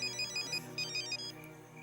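A phone ringtone plays a quick electronic melody of short, bright repeating tones, fairly soft and steady.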